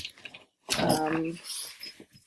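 Boston Terriers excited in the background give a short burst of whining, yelping dog sounds lasting about a second, fairly close and loud, with quieter scuffling before and after.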